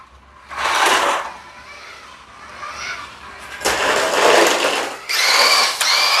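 A small electric motor on a cheap Temu RC drift car whines in loud, bursty surges as it drifts, alternating between high-pitched revving spells and quieter gaps.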